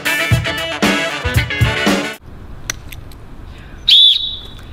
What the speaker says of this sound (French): Donc ce sifflet, c'est un sifflet qui vient du Triado.